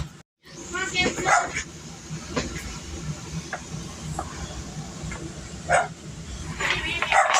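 Small dog yapping indoors in a home kitchen, several sharp short barks scattered through the clip, fairly near, over steady background hum and rustle.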